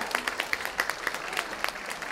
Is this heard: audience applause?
yes